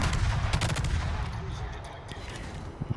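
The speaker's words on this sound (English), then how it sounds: "We'll launch a couple torpedoes his direction." Torpedoes launched from a destroyer in the naval game World of Warships, a burst of sharp rapid thuds and booms up front that thins into a lower rumble, with more muffled bangs near the end.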